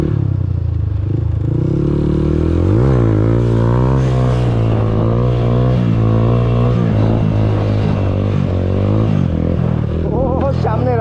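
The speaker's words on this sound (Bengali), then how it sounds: "আমি হুইলি করতে করতে চলেই যাচ্ছি।" TVS Apache RTR 2V motorcycle engine revving and climbing in pitch while ridden on a wheelie on a road, loud and close throughout, with strong wind buffeting over the microphone.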